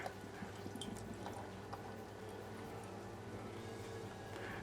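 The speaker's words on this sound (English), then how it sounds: "I'll pour it into my glass." Ci-Fi Cider Fiction pours into a glass, a faint, steady trickle with small drips and fizzing, close by and without speech.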